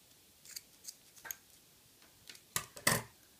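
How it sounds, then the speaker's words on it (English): Scissors snip paracord close to a fishtail bracelet, making a string of soft clicks followed by two sharper, louder cuts near the end, close up and quiet, with no talk. "you just need to cut it as close as you can"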